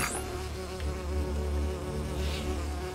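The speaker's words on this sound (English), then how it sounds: "Kill him, bees. Kill the rider." Bees buzz loudly in the Lego Lord of the Rings video game, a dense continuous insect drone that swells and holds steady throughout, with no voices on top.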